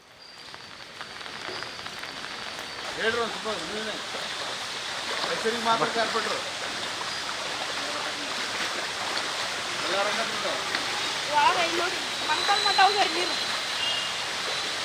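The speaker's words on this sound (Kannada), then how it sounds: "ಕಳೆದ ಸುಮಾರು 2 ಗಂಟೆಯಿಂದ ನಿರಂತರವಾಗಿ ಹುಬ್ಬಳ್ಳಿನಲ್ಲಿ ಮಳೆಯಾಗ್ತಾ ಇರೋ ಬಗ್ಗೆ ಮಾಹಿತಿ" Continuous heavy rain in Hubballi, a steady broad rushing hiss that runs throughout while people talk over it.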